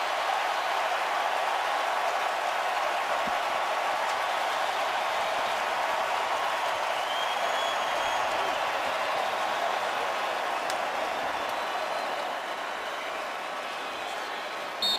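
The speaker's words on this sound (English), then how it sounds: "Listen to this crowd." A stadium crowd roars continuously at an Atlanta Falcons NFL divisional playoff game against the Seattle Seahawks, a dense, loud, unbroken wash of cheering that holds steady for the whole stretch.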